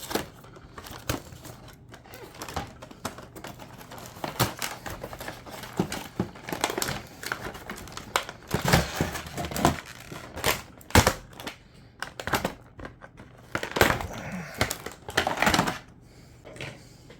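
A toy 1966 Batmobile being worked free from its plastic packaging, with sparse, uneven crinkling, snapping and clicking of plastic up close, some sharp bursts louder than others and no talking.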